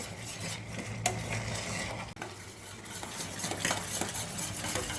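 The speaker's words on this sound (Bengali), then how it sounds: "বেশ কিছুক্ষণ এরকমভাবে ফুটিয়ে নেবো এটাকে।" Honey BBQ sauce for chicken skewers, made with sugar and chilli powder, boils in a pan while a spoon stirs it, a close, steady bubbling hiss with scraping strokes and a brief knock, no speech.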